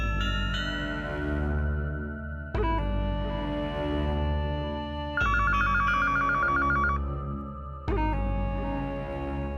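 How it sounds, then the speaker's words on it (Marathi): A home landline telephone rings in repeated electronic bursts: four long, even rings separated by short gaps, loud and close, with no voices during the rings. "तिच्या घरच्या फोनवर फोन करतो."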